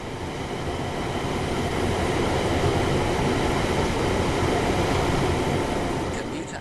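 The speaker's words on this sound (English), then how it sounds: "This train is a Class 350/1 electric multiple unit, manufactured between 2004 and 2014, and is part of the Desiro family." Class 350/1 Desiro electric multiple unit running on the four-track West Coast Main Line in Train Sim World 5, a steady broad rumble of motors and wheels on rails that holds even and continuous throughout.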